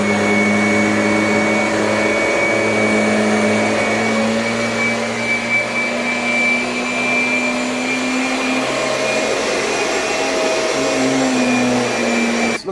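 A Kirby vacuum cleaner runs continuously over carpet, a loud, steady motor whine and airflow roar with a constant hum that holds unchanged throughout.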